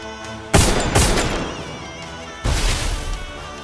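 Gunshots ring out in a PC shooter video game, a close loud burst of rapid shots followed by a second volley, each trailing off in a rumbling echo.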